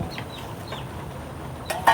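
A chicken clucks in a few soft, brief bursts close by on a Nepali household farm, with a slightly louder pair of clucks near the end and no talking.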